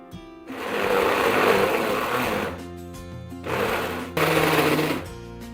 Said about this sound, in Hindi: इसको ग्राइंड कर लेना है, एक ज़बरदस्त सा इसका मिक्सचर बना लेंगे।